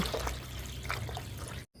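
Tap water trickling and pouring into a container while mushrooms are being prepared for preserving, a soft steady liquid splash with low rumble beneath, ending abruptly in a brief silence.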